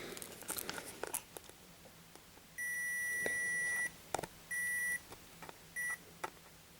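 A multimeter in diode mode tests a shorted MOSFET on a TV inverter board and beeps three times: one long continuity tone, then two shorter ones. Faint clicks and handling noise from the probes sound around the beeps.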